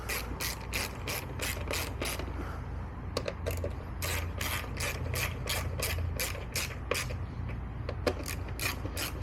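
A ratchet tightens the tie-downs on a car headlight assembly, giving a steady run of sharp, evenly spaced clicks with brief pauses, close and clear against faint background noise.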